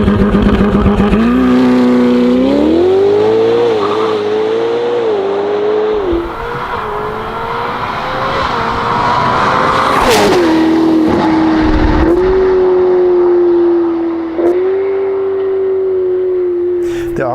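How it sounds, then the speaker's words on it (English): A Novitec-tuned Ferrari F8 Spider with a sport exhaust system roars loudly and up close, its engine note climbing through hard acceleration and shifting gears in sustained, droning pulls. "this car has been fitted with a sport exhaust system"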